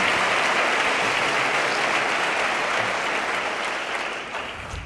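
A loud, sustained ovation from a large audience at a bullfighting fair proclamation in Albacete, thick uninterrupted clapping that holds steady and then tapers slightly toward the end.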